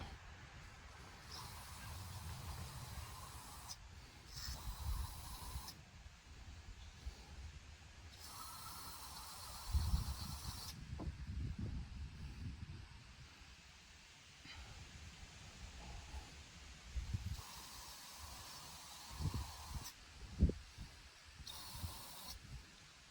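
Sensor cleaner sprayed onto a sensor in several bursts of hissing aerosol, each lasting a second or more, close but faint, with quiet handling noises between.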